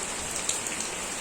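Rain pouring outside in an even, continuous wash of hiss with occasional faint drip accents, moderately loud and unbroken, no one speaking.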